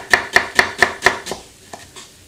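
A knife finely dices onion on a board, five even, sharp chops in quick rhythm followed by a few softer, slower taps, close and alone.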